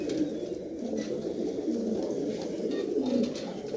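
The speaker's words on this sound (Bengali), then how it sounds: "এই দেখেন কবুতর জোড়া" A pair of pigeons coo softly and close by, with low, throaty, rolling calls repeating over a faint steady background.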